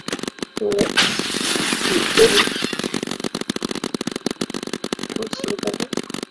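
Paintball guns in the Roblox game Big Paintball fire in rapid, crackling bursts of sharp clicks, dense at first and then in quicker scattered volleys, while a player talks.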